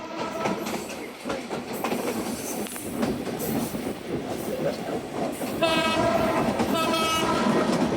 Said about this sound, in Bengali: আমাদের বেনাপোল অভিমুখী রূপসী বাংলা এক্সপ্রেস ট্রেনটি এখন Jhikargacha railway station through pass করে যাচ্ছে